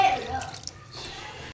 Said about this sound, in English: So I have to just half glass of water,